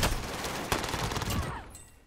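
Rapid gunfire bursts from a MAC-10 and a shotgun in the video game Warzone, loud dense volleys that fade into quieter trailing shots near the end, no voices.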